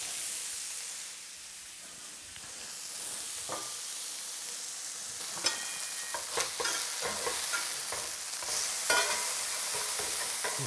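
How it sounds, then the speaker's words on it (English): Small 2-ounce burger patties sizzle in a hot skillet, a steady hiss of frying fat, close and continuous, with occasional spatula scrapes and pops growing livelier partway through. "So these are 2-ounce patties in the skillet right now."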